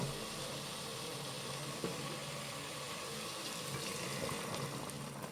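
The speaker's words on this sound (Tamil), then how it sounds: "அந்த தண்ணி எடுத்து அப்படியே நம்ம இதில் ஊற்ற போகிறோம்" Boiling water pours steadily into a pot of Kerala-style fish curry made with mathi fish and mango, a continuous splashing, gurgling rush of liquid at moderate loudness with no talk.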